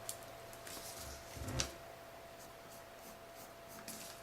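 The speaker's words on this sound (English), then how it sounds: "I'll go ahead and mark it with a pencil." A pencil scratches softly across a sheet of origami paper to mark a crease for a Kawasaki rose, with a few faint strokes and one slightly firmer tap, quiet and close.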